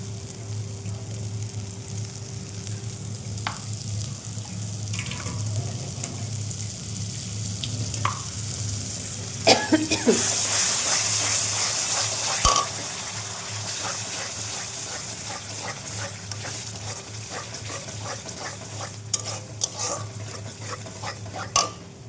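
Yogurt goes into fried spice paste in a pan while cooking a catla fish yogurt curry: a steady close sizzle with stirring and scraping, a louder wet burst as it lands, then continued bubbling.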